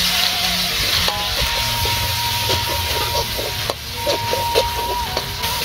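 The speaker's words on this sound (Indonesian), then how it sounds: "Oke sobat, kita mulai tumis ya sobat" Kikil (beef skin) sautéing in a pan for sambal balado, giving a steady loud sizzle and hiss with scraping and stirring of a utensil against the pan throughout.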